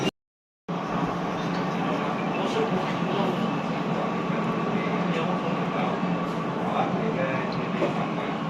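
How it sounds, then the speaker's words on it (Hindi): Riding inside a crowded train in Kuala Lumpur, a steady rolling rumble and rail hiss continue after a brief silent gap at the start, with faint voices now and then. "तो जी अभी ट्रेन में हैं"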